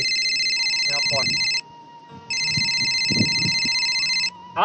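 A phone ringing with two long electronic ring bursts separated by a short gap, loud and close, with people talking faintly underneath.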